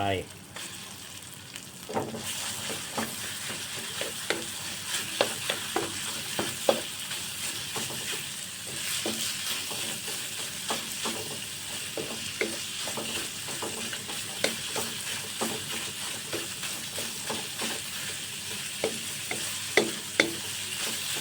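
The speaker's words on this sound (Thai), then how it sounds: "คั่วน้ำพริกที่มันหอม จากนั้นใส่หมูบดลงไป" Minced pork stir-fried in roasted chili paste for nam prik ong, a steady loud sizzle with continual scraping and clacking stirs against the pan throughout, close up and with no talking.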